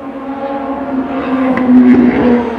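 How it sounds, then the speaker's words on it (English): A motorcycle racing down a city street at night, a steady droning engine tone that swells slightly as it passes, heard from a distance amid outdoor ambience. "Motorcycle races down this street every night."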